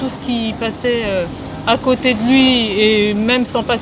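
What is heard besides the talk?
No distinct noise like a dog, phone or traffic.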